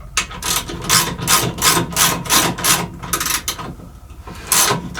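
A hand ratchet turns a bolt while fitting an incline motor on a NordicTrack elliptical, giving rapid repeated clicking bursts in a steady back-and-forth rhythm, close and loud, with brief pauses between strokes and no talk.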